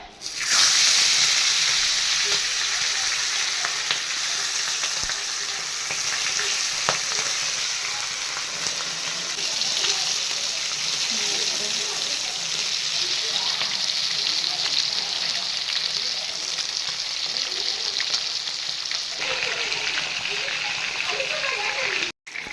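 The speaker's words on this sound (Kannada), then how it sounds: "ಈಗ ಎಣ್ಣೆ ಕಾದಿದೆ, ಈಗ ಫಿಶ್ ಹಾಕ್ತಿದ್ರಿ ಎಣ್ಣೆಗೆ" Marinated fish for a pepper fry sizzles in hot oil in a pan, a loud, close, steady frying hiss that runs unbroken from start to finish.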